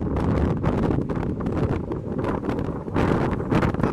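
Strong gusts of wind at a beach buffet and roar, surging and easing in bursts over several seconds.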